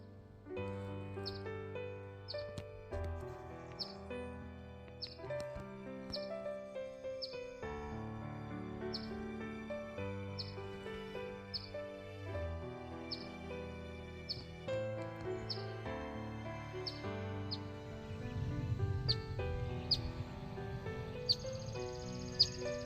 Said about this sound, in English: a better video of their mommy this time, the mama bird